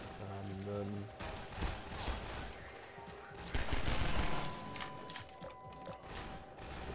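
Submachine gun fire in Half-Life 2, with bursts of rapid rattling shots and mechanical clatter over a busy game soundscape, moderately loud and continuing through most of the stretch.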